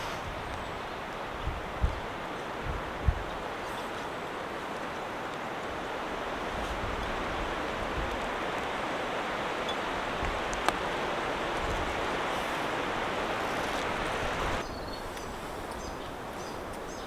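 Steady wind gusting over a tarp camp in light rain, a broad continuous rushing hiss that holds for the whole stretch with a few faint soft taps early on and no talking.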